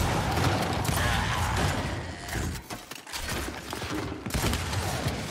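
Dense, sustained gunfire from the Gears 5 video game, rapid bursts rolling continuously for several seconds with a brief dip midway, loud and close, with occasional clanks of game mechanisms.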